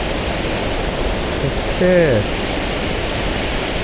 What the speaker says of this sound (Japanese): これはすごいでかい滝いいですね。